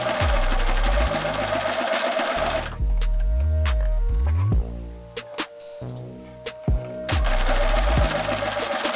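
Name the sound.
sewing machine stitching sheer mesh top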